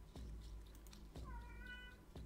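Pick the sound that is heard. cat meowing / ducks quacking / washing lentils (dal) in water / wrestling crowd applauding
cat meowing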